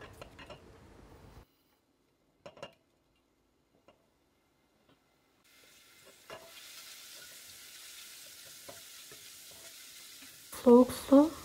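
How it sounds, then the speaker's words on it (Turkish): Garlic fries in oil for a Turkish tarhana soup, a faint steady sizzle rising after a long quiet stretch, punctuated by small ticks of stirring and two louder clanks of the utensil on the pot near the end. "Evet, sıvı yağ gezdirelim. Sarımsağın kokusu çıkana kadar kavuralım."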